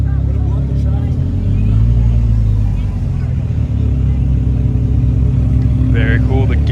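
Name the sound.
Ferrari 360 supercar with gated manual shifter driving off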